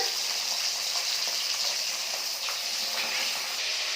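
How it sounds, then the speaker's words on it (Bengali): Dense, even sizzling of pabda fish frying in oil, a constant hiss with no pauses and no talking. "মাছ ভাজা হচ্ছে।"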